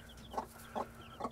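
A hen clucks three times in short, evenly spaced bursts near a chicken coop with chicks around, each cluck close and clear over a steady low background hum.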